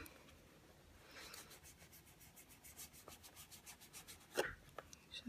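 Orange pigment is rubbed gently onto paper with light pressure to make a fluorescent background, producing faint, soft repeated rubbing strokes close by in a quiet room.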